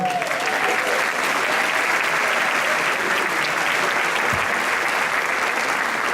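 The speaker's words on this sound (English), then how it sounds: "aplauso, por favor" Sustained audience applause fills a concert at a folk dance festival, dense and steady clapping from a large crowd throughout, loud and continuous with a faint voice briefly near the start.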